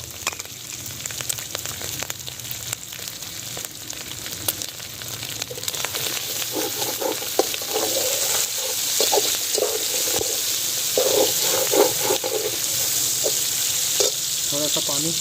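Finely chopped tomatoes sizzle and crackle in a pan of spiced oil over medium heat for pumpkin chana daal, a steady close frying hiss with stirring scrapes that grows louder midway.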